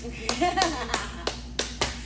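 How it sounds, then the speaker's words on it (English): Several sharp hand claps at uneven intervals, about six in two seconds, fairly close, with a voice briefly heard between the first claps. "I'm still clapping."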